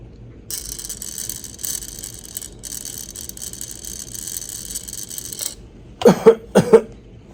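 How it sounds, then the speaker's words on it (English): A few harsh coughs near the end, close and loud, following a stretch of quiet mechanical whirring and ticking. "Coughing hurt like a bitch."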